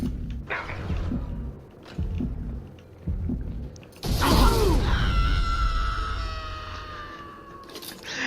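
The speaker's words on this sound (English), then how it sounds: "it's just funny listening to them scream like that" Enemies in the Mass Effect 2 video game let out drawn-out, wavering screams and groans after several short bursts of combat noise, the cries loud and close over a rumbling background.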